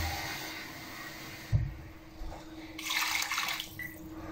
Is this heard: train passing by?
no